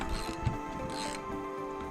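A ratchet turns a long bolt on the bench seat of a 1987 Dodge W250, giving close mechanical clicking and grinding with a few brief pauses and no talking.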